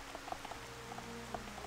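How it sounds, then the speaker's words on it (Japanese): Rain falling in Xenoblade Definitive Edition, with soft scattered droplet patters, faint and steady, over a low background drone. "さて雨が降ってるけど"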